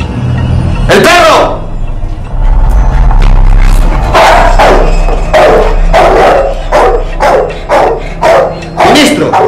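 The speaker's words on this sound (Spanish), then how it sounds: "¡El perro!" A dog barks repeatedly in sharp, loud bursts during a tense hostage scene in a Chilean police drama, the barks coming in a steady series over rumbling background noise and some talk.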